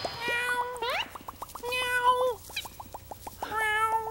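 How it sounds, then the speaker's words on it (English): A kitty stuck up high and wanting to come down meows repeatedly in short rising calls, several in a row over a steady rhythmic ticking background, clear and close. "Oh, the poor little kitty does want to come down."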